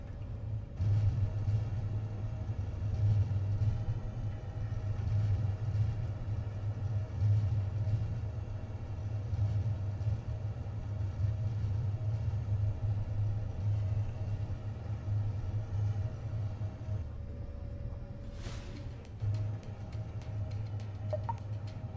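An Embraer E190 in a flight simulator game rolls down the runway after landing under manual braking, giving a steady low rumble with a constant engine drone. Near the end the rumble briefly dips and a short high whoosh cuts in.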